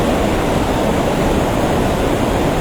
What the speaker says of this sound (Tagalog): Napakalakas ngayon ang agos ng tubig.